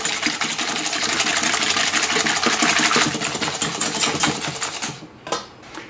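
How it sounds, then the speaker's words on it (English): Eggs and sugar being whisked by hand in a bowl for a gluten-free lava cake, a steady, busy rapid scraping and clinking that runs continuously for about five seconds before stopping. "And we're gonna whisk this."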